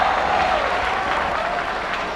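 A wrestling arena crowd at an FMW event applauding, dense sustained clapping with a low murmur throughout, steady and fairly loud.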